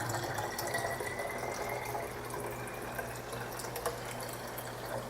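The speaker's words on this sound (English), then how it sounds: "So then you go ahead and pour your kefir." Homemade water kefir pours into a container in a steady splashing, gurgling stream that fills the vessel, close and continuous with no voices.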